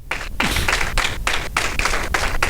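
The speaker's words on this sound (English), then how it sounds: "If we could give her a round of applause." Sustained audience applause at a gala fills the room, dense steady clapping from a large crowd with a few louder claps standing out, loud and close throughout.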